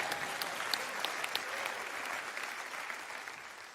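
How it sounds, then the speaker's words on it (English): An audience at a motivational speaking event breaks into steady, moderately loud applause that holds through the whole stretch without any speech. "Y'all can clap for that."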